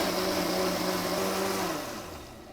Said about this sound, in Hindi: तो अब इसको ब्लेंड कर लेंगे